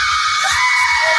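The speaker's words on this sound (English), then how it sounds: "3, 2, 1, scream!" A crowd screaming together on cue, a dense, sustained wall of loud shrieking voices with no pauses, close and filling the space.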